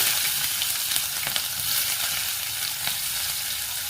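Mustard seeds, cumin, chopped garlic and onion sizzle steadily in hot oil for a brinjal chutney, a close, continuous frying hiss with a few soft pops and stirring sounds.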